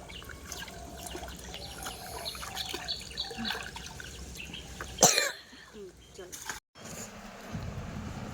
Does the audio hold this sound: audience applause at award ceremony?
no